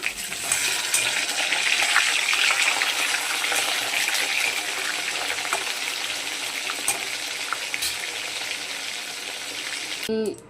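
Hot oil sizzles in a pan, heated for frying leafy greens in a home kitchen. A steady, loud, hissing crackle runs for about ten seconds and ends with a brief clatter.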